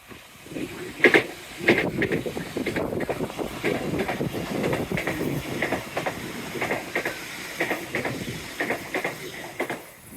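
Train wheels clatter over rail joints in a steady clickety-clack on the Teignmouth seafront line, loud and close, with hissing and a repeated rhythmic beat throughout and no talking.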